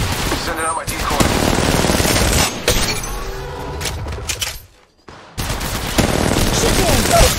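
Dense bursts of automatic gunfire from Apex Legends Mobile, rapid loud rattling shots with brief pauses and one short gap of near silence before firing resumes, mixed with other game effects.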